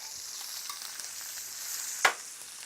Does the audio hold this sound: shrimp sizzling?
yes